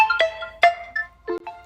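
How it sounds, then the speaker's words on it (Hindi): A cartoon phone rings with a bright electronic melody of short tonal chimes in quick succession, clear and alone with no talking. "तभी नीलू का फोन बजता है।"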